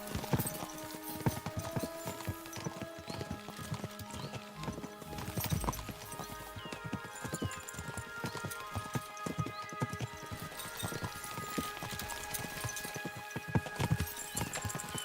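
Horses gallop in the medieval video game Kingdom Come: Deliverance II, a steady, loud clip-clop of hooves running continuously with occasional whinnies amid rattling tack and ambient game sound, with no speech over it.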